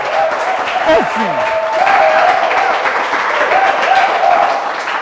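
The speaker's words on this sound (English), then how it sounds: "Ladies and gentlemen, give a round of applause." Studio audience applause and cheering on a Ghanaian quiz show, a continuous wash of clapping with a voice cutting through briefly partway.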